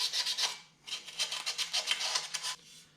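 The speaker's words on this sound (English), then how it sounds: "I'm kind of sanding off most of the rust fix, other than what's just in the pits" Sanding rust off the chrome front bumper of a 1951 Chevy, heard as close, rhythmic rasping strokes in two bursts with a brief pause between, no talking.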